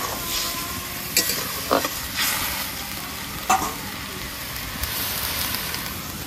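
Fish going into bubbling village-style Bengali curry in a pan, a steady close sizzle and frying hiss with occasional scraping stirs and soft clacks, no talking.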